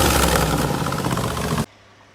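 A 1965 Ford F350 truck's 352 FE V8 idles with a steady, low, throbbing rumble for under two seconds after an exhaust manifold leak repair, then cuts off abruptly into near silence.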